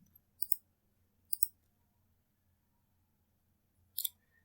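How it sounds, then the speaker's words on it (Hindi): Three crisp computer mouse clicks, two close together early and one a few seconds later, alone against a quiet low hum. "सो मैं इसको क्लिक करता हूँ।"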